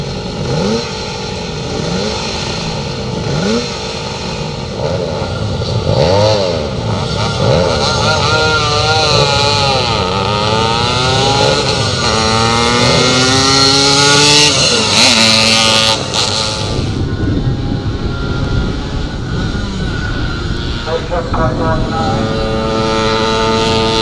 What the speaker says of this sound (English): this is Tony Fox on his little Suzuki 100